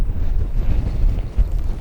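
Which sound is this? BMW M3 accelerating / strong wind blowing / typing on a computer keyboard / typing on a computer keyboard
strong wind blowing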